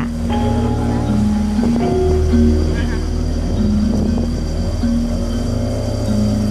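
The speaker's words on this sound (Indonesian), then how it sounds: "Menggunakan longboat atau perahu motor jenis klotok dengan mesin 15 PK." A klotok longboat with a 15 PK motor chugs along steadily, a loud low engine drone with wind buffeting the microphone, while a voice speaks over it.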